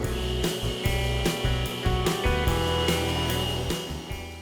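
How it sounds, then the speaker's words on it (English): A table saw rips strips of zebra wood, its motor hum steady while the blade note rises and falls with repeated cuts and pulses, loud and close. "I'm cutting strips of zebra wood at 3/8 by 3/4 of an inch."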